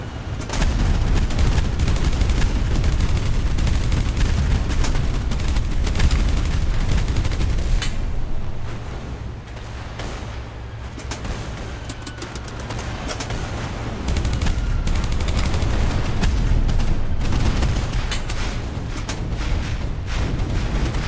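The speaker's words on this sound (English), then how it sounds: "Oh, there is a lot of artillery coming up at us." Dense, continuous artillery and gunfire in a boat combat video game, a loud sustained barrage of overlapping booms and rapid shots that eases briefly midway and then swells again.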